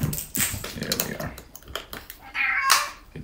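A house cat meows nearby, a few short calls mixed with light handling and rustling noises indoors, with one louder drawn-out meow toward the end.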